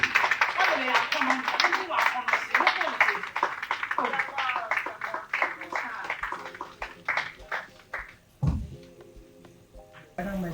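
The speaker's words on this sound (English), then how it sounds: "Oh, let's clap a bit." An audience at a Ghanaian entertainment show claps in a dense burst that thins out over several seconds, with a voice talking over it.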